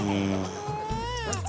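Infant crying in a TV comedy scene set at a temple, with wavering, rising wails that start under adult talk and grow clearer near the end.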